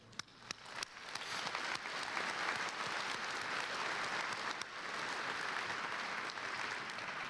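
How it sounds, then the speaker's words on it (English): Graduates and guests at the inaugural commencement of a Louisiana osteopathic medical college clap together in a steady, fairly distant round of applause, a few sharper claps standing out at the start before the sound settles into an even wash lasting several seconds. "let's give them an applause"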